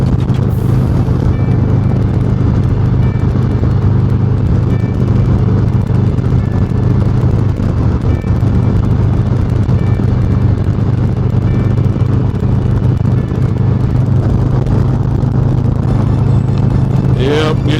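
Harley-Davidson Road Glide motorcycle ridden with the throttle gently twisted, a low steady engine rumble heard almost continuously under heavy wind buffeting from riding at speed.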